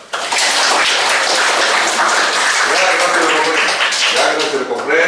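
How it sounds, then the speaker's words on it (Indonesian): An audience at a talk breaks into dense, sustained clapping that fills the clip, with a voice beginning to speak over the fading applause near the end. "Tepuk tangan dong."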